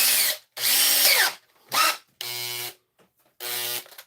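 An electric drill whirs in several short bursts separated by silences, some higher-pitched and buzzy, others with a steadier motor whine, close by.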